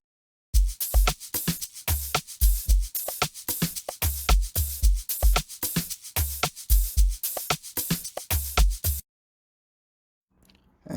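A second amapiano drum pattern built in FL Studio pulses with deep kicks and sharp bright percussive hits in a busy syncopated groove, then cuts to silence with a faint brief noise near the end.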